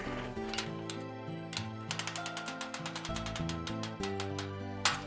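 A traction table belt being ratcheted tight across a patient's hips, a rapid run of crisp mechanical clicks in quick bursts, close and clear, with a low motor hum underneath.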